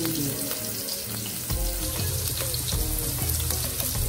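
Onion sautés with seasoning in a pan, a loud continuous close sizzle with clatter and stirring scrapes that grows fuller and heavier about halfway through.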